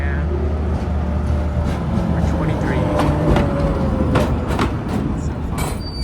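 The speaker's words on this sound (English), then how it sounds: "here's my tram" A Budapest city tram rumbles past at close range with a broad, steady roar, brief squeals and clanks over street noise, while a voice speaks briefly over it.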